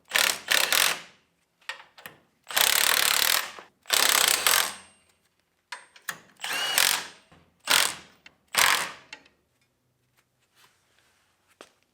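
A ratchet tightens bolts on a VW Beetle swing-arm spring plate fitted with 5-inch drop plates, sounding as about eight loud, close bursts of rapid clicking separated by short pauses, then trailing into quiet.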